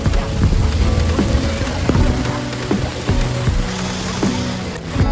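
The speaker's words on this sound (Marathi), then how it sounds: "पाऊस चालू आहे." Heavy rain drums steadily and loudly on a car during a drive through Tamhini Ghat, a dense continuous patter with scattered sharper drops and knocks.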